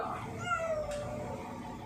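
A single drawn-out cat meow, fairly close, rises and then trails off over quiet room noise.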